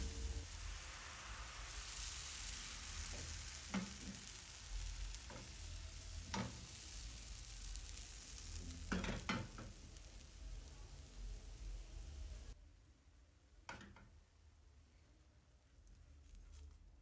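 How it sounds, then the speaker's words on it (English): Butter sizzles and crackles steadily in a hot pan while cooking crepes, with a few sharp pops and scraping clinks throughout. "Then you're going to add in your butter and cook it for about 2 minutes both sides."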